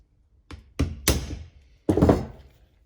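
A small socket on an extension tapping out the pins of a Brembo brake caliper on a Mitsubishi Evo X: four separate metallic knocks, close and fairly loud, spaced irregularly with short gaps, and no talk.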